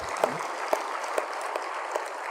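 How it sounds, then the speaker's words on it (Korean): Church congregation in a Sunday worship service claps to give glory to God, a steady soft patter of many hands with a few sharper claps standing out, somewhat distant and alone. "박수 쳐서 하나님께 영광을 드립니다"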